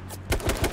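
Rapid gunshots in a video game snap out in a quick string of three or four close, evenly spaced cracks.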